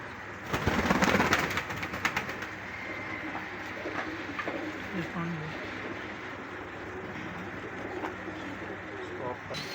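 Pigeons coo softly amid a busy outdoor hum, with flapping and splashing early on as they bathe, and people talking in the background.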